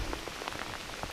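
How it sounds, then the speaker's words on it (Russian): A sudden heavy downpour at a remote lake in Russia, rain hammering hard and steadily onto surfaces close by, a dense rapid patter with no voices. "Просто жесткий ливень резко."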